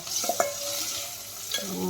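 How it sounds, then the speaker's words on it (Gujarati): Okra and green chillies seasoned with turmeric and salt sizzle softly in a pan as a spoon stirs them, giving a few scraping clinks over a low, steady fry. "આવી રીતે આમ વચ્ચે વચ્ચે હલાવતા રહેવાનું છે ચમચાની મદદથી અને આપણે આને સાતળવાનું છે"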